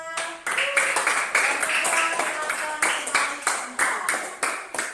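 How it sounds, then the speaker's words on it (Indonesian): Classroom of students clapping for a presenting group, a dense run of handclaps with rhythmic bursts over about five seconds, fairly close and moderately loud, with faint voices beneath. "berikan aplaus untuk kelompok 2"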